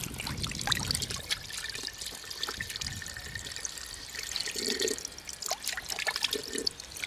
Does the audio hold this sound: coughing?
no